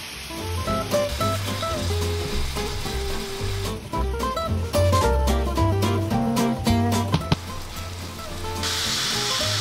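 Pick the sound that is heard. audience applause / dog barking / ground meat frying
ground meat frying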